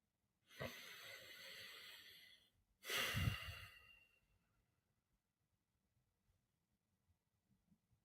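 A slow breath in through the nose, then a louder, heavier exhale like a sigh during a guided breathing exercise, close and alone, followed by several seconds of silence.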